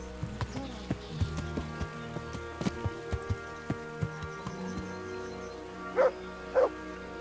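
Horse hooves clopping in the medieval game Kingdom Come: Deliverance, a steady stream of light hoof beats over ambient music, with two louder, nearer thumps toward the end.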